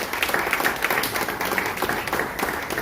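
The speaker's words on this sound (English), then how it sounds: "let's give them some big round of applause." Audience applause at the launch of a school diabetes programme in Ghana, a lively, close patter of many hands clapping with a quick, uneven rhythm throughout the short stretch.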